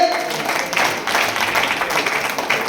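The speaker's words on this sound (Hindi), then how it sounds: "जोरदार तालियां बजाइए" Audience applause at a Hindi poetry recitation in Haridwar, a fairly loud continuous patter of clapping that holds steady for a few seconds without pause.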